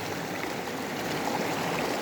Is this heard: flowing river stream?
yes